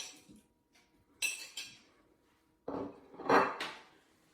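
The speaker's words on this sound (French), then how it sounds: "je verse dans mon mixeur le fromage de chèvre" Cooked asparagus and goat cheese tipped into a blender jar, giving a few dull clinks and soft thuds of food and utensil against the container, close and moderately loud, with no voices.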